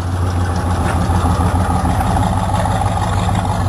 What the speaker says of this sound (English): Chevrolet. Get to hear it rumble a little bit more.